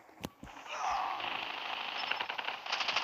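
Gunfire in a Call of Duty match: a couple of sharp isolated shots at the start, then a sustained rattling burst of rapid automatic fire with a bright metallic edge, moderately loud.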